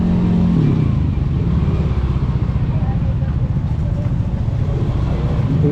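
Road traffic of cars and motorcycles in Malasiqui, a dense, close, continuous engine rumble with no pauses across the whole stretch.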